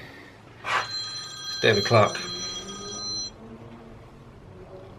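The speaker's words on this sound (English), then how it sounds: "my phone's ringing." Mobile phone ringtone sounds in short electronic bursts, fairly near, as someone speaks briefly over it during BBQ-building work.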